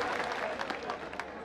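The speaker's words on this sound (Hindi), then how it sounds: "जोरदार आपकी तालियां बजे।" An audience at a poetry recital claps in a brief, dense burst of applause, fairly loud and roomy, with no talk over it.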